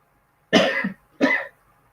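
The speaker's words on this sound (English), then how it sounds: "Sorry, I got a bit of a cough just from the incense" Two harsh coughs brought on by incense smoke, close to the listener, one right after the other, in an otherwise quiet room.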